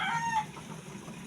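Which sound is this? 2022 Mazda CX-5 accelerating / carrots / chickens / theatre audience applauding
chickens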